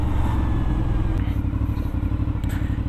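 An Aprilia Shiver 900 motorcycle, restricted to 47 hp, runs with a loud, steady low engine rumble throughout, close and continuous with no break.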